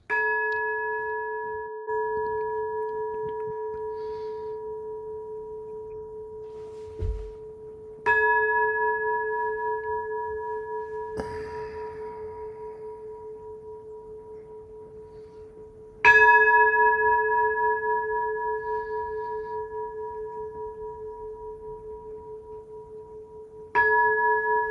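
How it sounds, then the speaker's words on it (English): An ancient temple bell rings in a slow series of four strikes, each clear tone sustaining and fading over several seconds in a quiet, still setting. "The sound of the temple, the ancient temple bell, ringing through the centuries, ringing through the rain."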